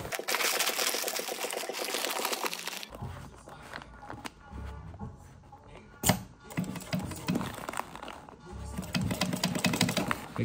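A sewing machine stitches a drybag seam flat in bursts of rapid, rhythmic mechanical chatter at the start and again near the end, with quieter handling and rustling of the fabric in between.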